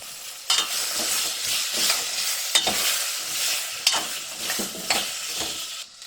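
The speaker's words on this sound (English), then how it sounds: "I'll throw the onion straight in the pan." Chopped onion sizzling and being stirred in a hot pan for lamb in red wine, a steady frying hiss broken by several sharp scrapes of the spoon, close and fairly loud with no talking.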